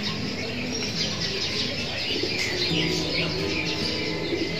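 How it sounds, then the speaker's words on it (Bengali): Pigeons coo close by amid a busy outdoor chorus of sparrows, bulbuls and magpie robins, the chirping continuous and moderately loud, with faint wing flaps and no talking. "অবশ্যই কবুতর ডাক আপনারা শুনতে পাচ্ছেন।"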